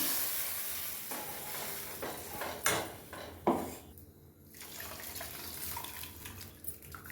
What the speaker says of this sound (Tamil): கரைச்சி வச்சுருக்கிற புளி தண்ணியை நான் அந்த அப்படியே இந்த பாத்திரத்தில் ஊற்றிடுவேன்.